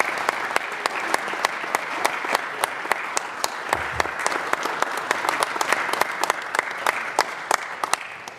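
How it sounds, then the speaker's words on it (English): Audience applause at a city council meeting, sustained steady clapping from a crowd that fills the room at close range and holds even throughout. "Special round of applause for Dave Solomini."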